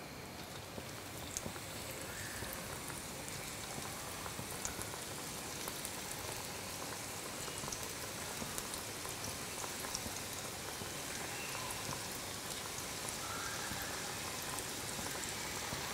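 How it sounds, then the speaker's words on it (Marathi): A batch of cabbage vadi deep-frying in hot oil sizzles and crackles steadily and softly throughout, a continuous fine bubbling hiss with no talk. "आता पुढची बॅच तळूयात."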